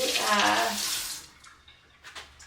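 Food is rinsed under a running kitchen tap, a close, loud gush of water for about a second that then cuts off, leaving faint drips and small handling sounds.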